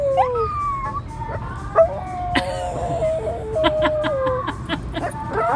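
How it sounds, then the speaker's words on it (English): A small dog howls and whimpers up close in wavering, drawn-out tones, answering a street vendor's loudspeaker recording in Mexico City, with short yelps and faint street noise around it. "his howling at the lady, the recording of the lady that goes around Mexico City"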